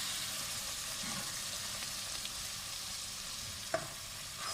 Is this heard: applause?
no